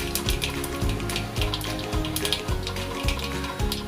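Cumin seeds, added after mustard seeds, sizzle and crackle in hot oil and ghee in a pressure cooker, a dense continuous frying sound with scattered pops, close and steady, with no talking.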